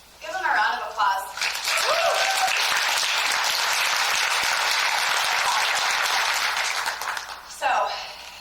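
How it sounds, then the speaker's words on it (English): Sustained, loud applause from a large crowd at a business regional convention, a dense wash of clapping that swells and holds for several seconds, with a voice speaking briefly before it starts and again as it fades. "Give them a round of applause."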